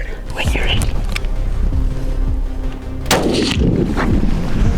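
Rifle shot on a dangerous game safari hunt in Zimbabwe, a single sharp loud blast with a trailing echo, preceded by quiet whispered talk and followed by another crack and murmured voices.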